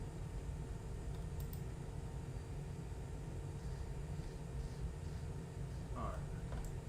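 A small airplane circles in flight, its engine making a steady, loud, low droning hum from inside the cabin that stays constant throughout.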